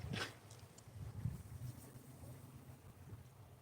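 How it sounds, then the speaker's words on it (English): Wind blows outdoors beside Cold Creek as a faint, steady low rumble buffeting the microphone, with a brief louder gust near the start and no voices. "wind is picking up a little bit"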